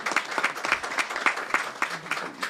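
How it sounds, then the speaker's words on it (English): Applause for police officers at a press conference, brisk steady clapping from a modest crowd, moderately distant and continuous for a couple of seconds without voices over it. "give these officers, the officers as well as this sergeant and major and captain a round of applause."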